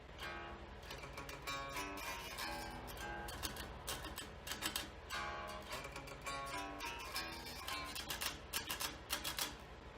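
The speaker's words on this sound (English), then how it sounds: "So it sounds like this slowed down." Quiet electric guitar riff played slowly, with clicky palm-muted chugs between shifting low notes in a steady rhythm.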